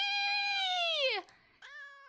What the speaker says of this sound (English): Your cat Pepper sits next to Plushie Pet, smelling it curiously